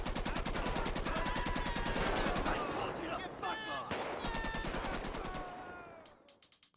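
An assault rifle in GTA 5, modded to feel rugged and hard to control, fires long sustained automatic bursts of rapid, evenly spaced shots that break briefly, resume, then trail off into a few last scattered rounds, loud and close with faint talk beneath.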